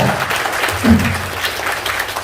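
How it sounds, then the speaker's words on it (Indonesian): Moderate clapping from an audience at a business seminar, steady and fairly close, running throughout with a faint voice briefly underneath. "tepuk tangan buat BBM ya"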